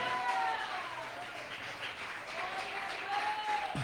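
Applause from a large church congregation, a steady wash of clapping heard at a distance, fairly quiet and sustained throughout.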